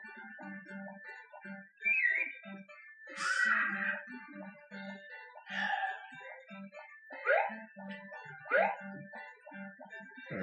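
Dog barks and whimpers from the Harvest Moon: Back to Nature video game, a few short calls spaced through a busy stretch of game music with repeating low notes.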